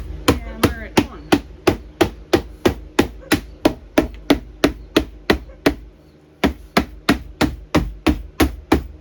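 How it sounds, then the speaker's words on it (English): Hard, evenly paced hammer strikes drive the last piece of a Hatching Time 15-inch 4-level brooder into place, about two dozen loud, close blows with one short pause midway. "And hammer it on."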